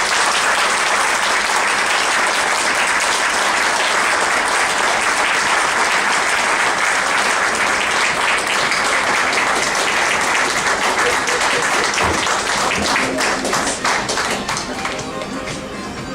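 Audience applause for volunteers at a community awards ceremony: loud, dense clapping from a large crowd, steady throughout and tapering slightly at the end.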